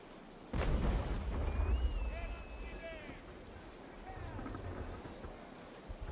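Naval Action ship cannon firing a tracking shot: one loud booming blast with a rumbling tail, followed by wind and sea ambience while a voice speaks over it.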